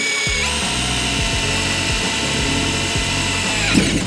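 A power drill bores a hole into kayak tubing, a steady high-pitched whine running close and loud for several seconds with a grinding low chatter underneath, then winding down at the end.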